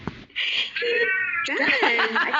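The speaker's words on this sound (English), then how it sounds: "I think your kitty in the background agrees, because I can hear him piping in every once in a while." A cat meowing in the background of a conversation, with drawn-out, rising and falling meows that are loud and close and blend with laughter and talking.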